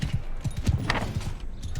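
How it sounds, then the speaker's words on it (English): Horse hooves clip-clop at a walking pace in the video game Bannerlord, a steady, close rhythm of thuds over a continuous background hum. "In the smaller towns, you'll walk around on your horse."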